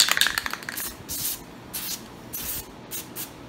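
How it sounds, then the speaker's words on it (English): Several short hissing bursts from an aerosol can of white lithium grease, sprayed close up into a car bucket seat mechanism, separated by brief pauses. "we're just gonna spray a bunch of white lithium grease in here"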